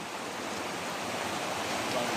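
Floodwater rushing around a flooded house, a steady broadband roar of moving water with a slight swell toward the end and no voices.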